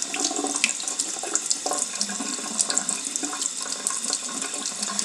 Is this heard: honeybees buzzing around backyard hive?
no